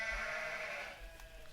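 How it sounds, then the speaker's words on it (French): A lone lamb bleats in one long, wavering cry, clear and fairly close, with no other sounds around it, in a children's Bible story about a lost sheep. "Bé, bé. Le mouton ne trouve pas son berger."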